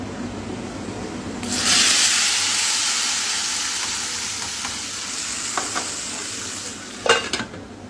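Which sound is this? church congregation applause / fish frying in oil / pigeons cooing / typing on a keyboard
fish frying in oil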